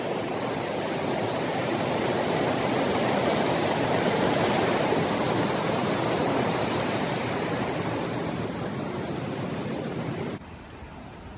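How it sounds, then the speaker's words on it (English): A creek rushes in a constant, close broadband wash for about ten seconds before cutting abruptly to a quieter background. "the creek running in."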